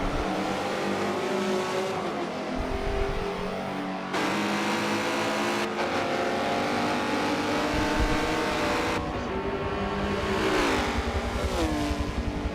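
GS class race cars lap Daytona in a Michelin Pilot Challenge round, loud engines droning and revving continuously as several cars pass one after another, with pitch sweeps and sudden shifts as they go by.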